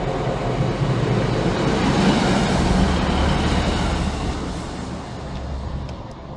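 A single-car class 153 diesel unit at Stowmarket station gives a steady, loud broadband rumble that holds for several seconds and then eases slightly, with no voices heard.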